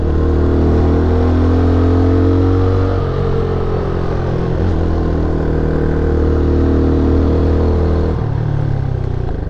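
A Peugeot PM-01 motorcycle climbs uphill on the road up Mont Faron, its engine humming steadily and loud and close, with small shifts in pitch as it pulls and changes load; no talking.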